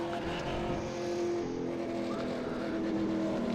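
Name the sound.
V8 Supercar race car engine, iRacing video game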